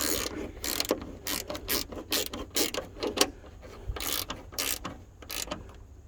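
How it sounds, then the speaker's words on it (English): A ratchet wrench clicks in quick bursts as it runs down 10mm nuts on the fan shroud of a 1998 K1500 truck. The strokes come close and clear, with short pauses between them and no talking. "And this is just a ratchet wrench."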